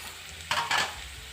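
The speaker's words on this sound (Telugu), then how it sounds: "ఆనియన్ చక్కగా ఫ్రై అయ్యాయి కదా." Onions in a pan give two short, close bursts of sizzling hiss from a stir or toss, set against a faint, low background crackle.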